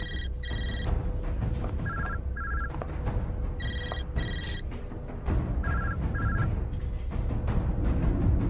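A telephone rings in repeated electronic double trills, several bursts spaced about two seconds apart, sounding over a busy indoor background in a Turkish drama scene.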